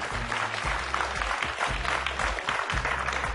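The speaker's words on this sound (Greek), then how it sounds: "ένα δυνατό χειροκρότημα για τη Λία" Studio audience on a Greek TV quiz show clapping for a contestant after a win, a loud, even roar of many hands with a low musical sting pulsing underneath.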